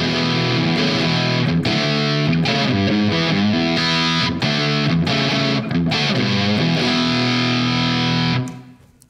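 Electric guitar played through a Fuzzrocious Cat Tail distortion pedal with gain set at 12 o'clock, giving thick, saturated chords and riffs that ring loudly and steadily for about eight seconds before a quick fade.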